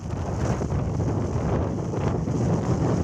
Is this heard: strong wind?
yes